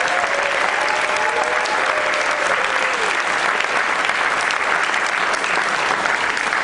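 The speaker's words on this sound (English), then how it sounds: "A huge round of applause." A theatre audience at a camp benefit event claps steadily and loudly, a dense, continuous wash of applause that fills the room throughout.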